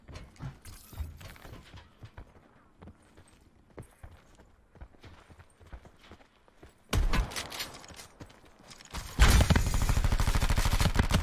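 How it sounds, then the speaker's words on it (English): Gunfire in the battle royale shooter Call of Duty: Blackout, with scattered footsteps and small clicks early on, then loud bursts of shots from behind that grow into a sustained, close barrage. "And now I'm getting shot in the back."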